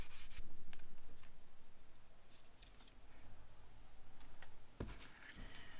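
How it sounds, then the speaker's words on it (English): Sanding scuffs on a smooth fishing rod blank to prepare it for epoxy, a close, quiet, continuous rhythmic rubbing with a few sharper scrapes, with no talking. "So I'm just gonna scuff up this rod blank just to give the epoxy something to grab to."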